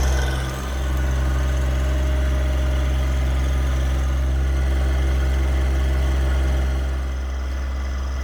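A tractor engine idles steadily nearby on a farm, a loud, low, even drone with a constant vibrating hum and no pauses.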